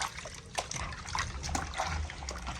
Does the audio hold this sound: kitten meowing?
no